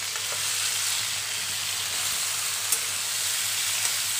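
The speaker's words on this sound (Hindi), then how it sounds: "अब हम इसमें हमारे जो सब्जी है वो डालेंगे" White brinjal sautés in a pan over a panch phoron tempering of five whole spices, producing a steady, even sizzle with a faint low hum underneath and a couple of small clicks, with no one speaking.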